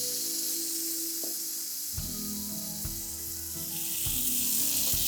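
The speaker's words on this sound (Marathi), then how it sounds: "आणि चांगली फोडणी झाली की मग आपल्याला डाळ जी आपण घुसळून घेतली आहे ती ह्याच्यात फोडणीला द्यायची." Tempering for masoor dal sizzles in a pan on the flame, a loud hissing fry that surges and crackles as the pan is tossed and stirred, close with no talk.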